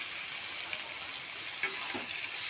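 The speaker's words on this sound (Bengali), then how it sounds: "পেঁয়াজের উপরে চিকেনটা দিয়ে দিলাম" Chicken pieces sizzle on top of onions in a pan, a steady soft hiss with a couple of faint clinks and bubbling pops near the end.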